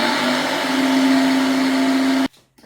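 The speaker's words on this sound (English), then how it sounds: "So I have a new blender now." A Fola Speedy 1 kitchen blender whirs loudly at a constant high pitch for about two seconds, then switches off abruptly into near silence.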